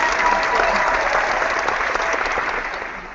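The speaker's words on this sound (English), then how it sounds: "Who clapped?" Dense, steady applause sound effect played during a live show, with sustained clapping across the whole moment that fades slightly toward the end.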